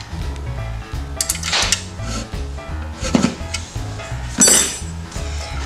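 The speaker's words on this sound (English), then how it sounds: "So now we're gonna bolt the compressor together now that the horns are done." Metal parts clink and clatter while a horn compressor is bolted together during a custom car horn install, with sharp irregular knocks and rattles, close and fairly loud, with no talking.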